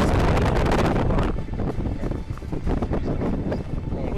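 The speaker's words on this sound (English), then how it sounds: "And it's pretty windy." Strong wind buffets the microphone outdoors where a four-cell RC model with a Turnigy 2856 motor and 75 amp speed controller is being prepared, a steady loud roar that eases slightly after the first second and keeps gusting.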